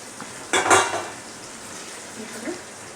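Fried prawns drop into a tomato mixture in a pan with a brief clattering rush and a spatula scrape, then a quieter sizzle with a light clink near the end.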